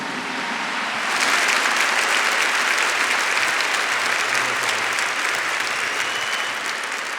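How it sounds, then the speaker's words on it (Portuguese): Big audience applause at a church gathering, dense continuous clapping that swells after a second and holds steady, filling the hall. "Give the Lord a big clap for this."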